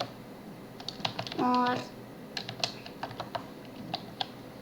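Steady typing on a computer keyboard while entering code, a run of close, crisp key clicks in irregular rhythm throughout, with a brief voiced sound cutting in partway through.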